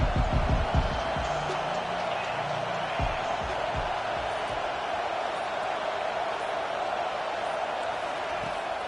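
A stadium crowd roars in an American football video game, a dense, steady wash of crowd noise throughout, with a few thumps near the start and a commentator speaking over it.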